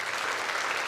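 Audience applause fills a church during a 130th-anniversary concert of Bach's Matthew Passion, a dense, steady clapping from the congregation sustained throughout.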